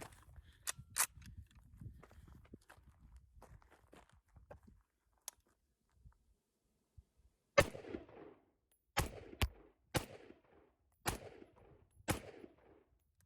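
Ruger Mini-14 rifle fed from a Pro Mag magazine fires a string of sharp shots, a couple early and then several spaced reports with echo, after some handling noise near the shooter.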